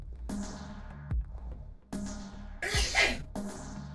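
A single sharp sneeze bursts out near the close of a tabletop roleplaying game session, framed by other voices and room sound.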